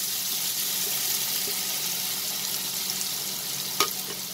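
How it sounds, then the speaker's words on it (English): Chopped onions and whole spices fry in hot oil over a high flame with a steady, close, even sizzle. A single sharp clink sounds near the end. "I'll saute this till the onions become slightly translucent over high flame"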